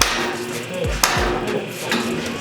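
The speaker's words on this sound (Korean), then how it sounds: "슬래치 해머를 사용해 빔을 시공대 위치에 넣어줍니다." A sledgehammer drives a steel H-beam into its seat, landing a few sharp metallic blows with a ringing strike near the middle, over a busy background of site noise.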